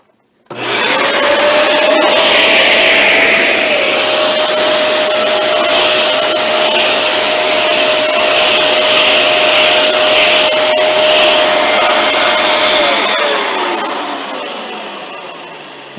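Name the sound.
Dyson Ball Animal 2 vacuum cleaner running with tool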